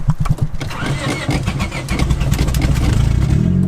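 A turbocharged Honda D16 car engine cranks and catches, then revs up and settles into a loud, rough running note, close and continuous.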